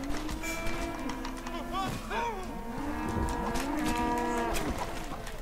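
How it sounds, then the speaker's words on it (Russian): Cattle in the Red Dead Redemption video game moo repeatedly, several overlapping long lowing calls from a herd at middle distance, with a faint ambient game soundscape and a voice talking briefly. "Смотри, коровки."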